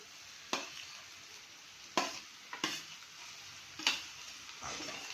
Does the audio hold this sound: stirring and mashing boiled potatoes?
yes